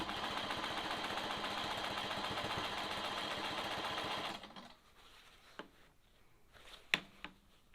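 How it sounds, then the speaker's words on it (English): A sewing machine runs at a steady, fast hum for about four seconds during free-motion quilting along a long ruler, then stops, leaving a quiet room with a few soft clicks and taps. "I'm just going to very carefully stitch a few stitches in here"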